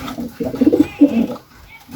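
Soft, low racing pigeon cooing in a couple of throaty bursts, close by, with a brief pause between calls.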